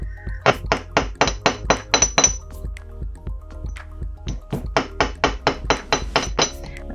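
A small hammer gently taps wire for a wire-wrapped pendant in two runs of quick, even strikes, about a dozen light metallic taps each, close and clear with a brief pause between.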